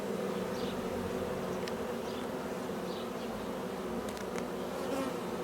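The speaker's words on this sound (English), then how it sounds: "So you can see the bees here." Honeybees buzz inside an open beehive, a dense, steady hum of many insects close by, with a few individual bees flying past.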